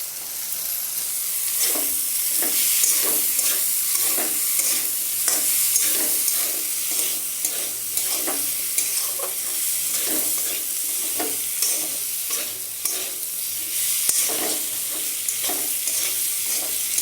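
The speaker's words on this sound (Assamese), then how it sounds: "এইবাৰ এতিয়া দিম ইয়াতে ডাঙৰ কৰি ৰখা পিঁয়াজখিনি আৰু কেপচিকামখিনি।" Chopped onion and capsicum fry in a hot pan, a steady bright sizzle and hiss broken by repeated scraping stirs of a spoon at a fairly regular rhythm, close and clear without talk.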